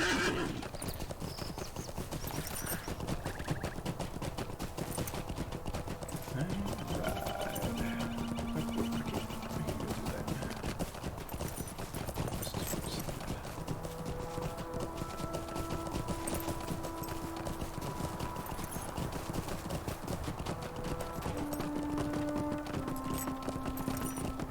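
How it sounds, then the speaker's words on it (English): Horse hooves clip-clop steadily at a gallop with whinnies in the Lord of the Rings Online video game, loud and continuous over game music, with no talking. "Let's get on my horse."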